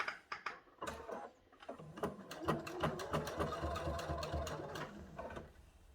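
A sewing machine top-stitches a cathedral window quilt panel with rapid, close mechanical ticking that starts in short bursts and then runs steadily, pausing briefly near the end.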